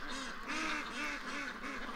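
Drakes quacking close by, a run of four or five rhythmic nasal quacks in quick succession, fairly loud, with no talking over them.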